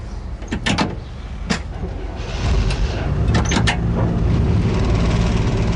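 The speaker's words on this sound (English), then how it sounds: "First of all, I'll start the engine." A vehicle engine starts up inside the driving cab, with a few sharp clicks and clunks before a steady low rumble builds and settles into an even idle.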